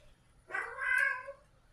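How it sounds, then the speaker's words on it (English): A house cat meows for attention indoors, one drawn-out, wavering meow that rises and falls, fairly close and clear against a quiet background. "That's my cat trying to get my attention"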